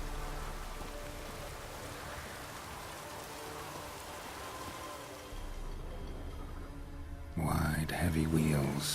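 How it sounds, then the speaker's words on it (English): Steady rain hisses across the scene in The Witcher 3, a dense, even wash of noise that continues throughout, with a louder rumble of movement rising near the end. "Looks like rain."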